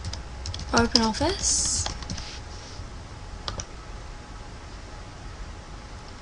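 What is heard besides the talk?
typing on a computer keyboard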